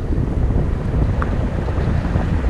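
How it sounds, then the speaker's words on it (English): Steady wind buffeting a microphone at a paragliding landing site, a continuous low roar with gusty rumble throughout and no voices. "now this is a very good wind"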